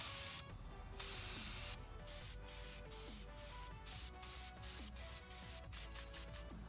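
Aerosol paint hisses in repeated bursts as a coat goes onto yellow AMG car brake calipers, with short sprays separated by brief gaps, faint and close.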